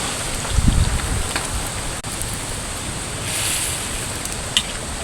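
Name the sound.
strong wind blowing outdoors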